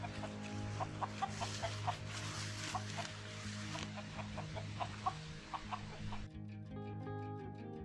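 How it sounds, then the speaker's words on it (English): A neighbor's rooster wanders a construction site for a timber-frame sauna, making a string of soft, rhythmic clucks, close and fairly quiet, before the sound cuts to a steadier tonal backdrop near the end. "During construction, I was fairly regularly visited by my neighbor's rooster."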